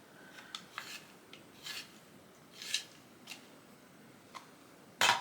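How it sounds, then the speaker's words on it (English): A Charlotte Tilbury Pillow Talk lip liner pencil is sharpened in a few short, soft scraping twists, close and quiet, with a louder grinding burst at the end and no talk. "I'm just going to sharpen the Pillow Talk."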